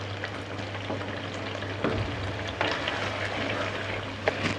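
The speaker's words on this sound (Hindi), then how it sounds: "हरी मिर्चें जो हमारे पास 2-3 कटी हुई थी ये हम इसमें डाल देंगे, और इसको भी साथ में भून लेंगे।" Chicken pieces and a few chopped green chillies fry in a pan, with a continuous sizzle, occasional stirring scrapes and soft pops at moderate distance, and a low steady hum underneath.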